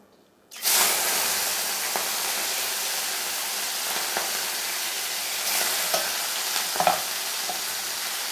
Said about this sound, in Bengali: কড়াইতে আমার তেল অলরেডি গরম হয়ে গেছে প্রথমে আমি চিংড়ি মাছগুলোকে ভেজে নেব